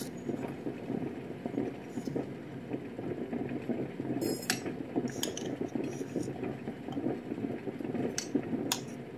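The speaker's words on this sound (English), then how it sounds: "we're going to put our coffee in here. Now you're going to need a tablespoon per cup." Coffee grounds spooned into the basket of a stovetop percolator, making repeated light metallic clinks and scrapes in an uneven, steady rhythm close by.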